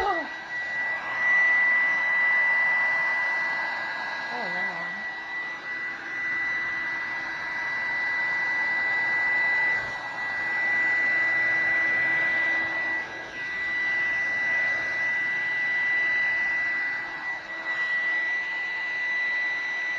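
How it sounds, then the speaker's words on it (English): A household hair dryer runs continuously for the whole stretch, a steady airy roar with a bright high whine, dipping slightly in level now and then. "my mother's hair dryer will never be the same"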